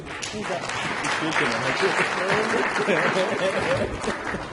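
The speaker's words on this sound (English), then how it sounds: "Start clapping then if you did." An audience at a family planning conference claps steadily throughout, a dense ongoing patter with a voice speaking over it.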